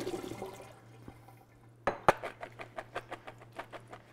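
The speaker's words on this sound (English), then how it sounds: "So what you do next is pour these in a colander, and you're going to shake all of this excess liquid off." Soaked cranberries shaken in a colander over a kitchen sink, starting with a couple of sharp knocks and then a steady run of rhythmic rattling shakes with dripping liquid, moderately close.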